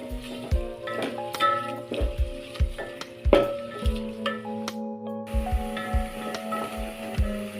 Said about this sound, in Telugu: ఉల్లిపాయలు వేసుకొని మంచిగా ఫ్రై అయ్యేదాకా కలుపుకోవాలి.